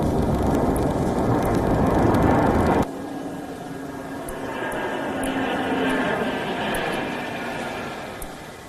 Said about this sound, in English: The flypast was seen across London skies as the aircraft soared over the Thames.